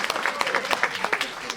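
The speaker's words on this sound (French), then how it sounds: "Les gens vont applaudir les grands retardataires." An audience claps for latecomers arriving at a live stage show, a brief burst of dense, steady applause from a room full of people, with scattered louder claps standing out near the front.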